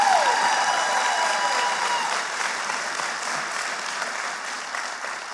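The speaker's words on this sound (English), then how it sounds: "can we all give him a big round of applause?" An audience at a regional chamber of commerce annual meeting applauds warmly, a dense, steady round of clapping that fades gradually over several seconds.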